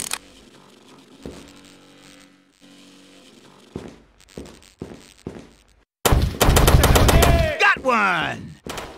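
Gunfire in The Mark video game: a rapid burst of loud, close shots fires in a dense rattling volley after a quieter stretch of scattered clicks and thuds.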